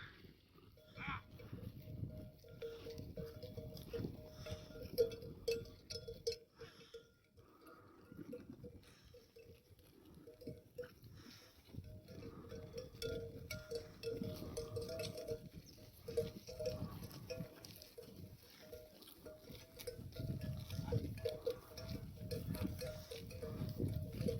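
Sheep and a ram bleating now and then over a steady outdoor rumble on a foggy autumn day, with occasional bell-like clinks and a voice speaking faintly in the background.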